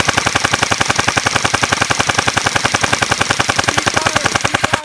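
A string of firecrackers goes off in a rapid, loud, evenly spaced crackle of dozens of sharp pops, close by and continuous for several seconds with no talk.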